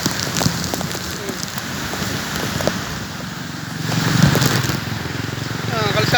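Heavy typhoon rain pours in flooded Lucena streets, a loud continuous wash of drops hitting surfaces with gusting wind, while someone talks over the downpour.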